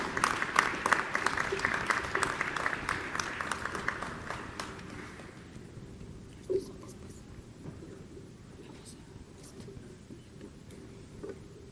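An audience bursts into dense applause at a Teachers' Day celebration for teachers at UAZ, loud at first and then thinning out and fading to scattered claps over several seconds.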